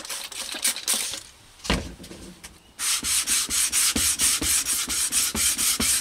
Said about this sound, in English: This is what we look like, approximately about 45 minutes of sanding it down.